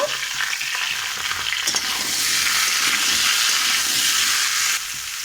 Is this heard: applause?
no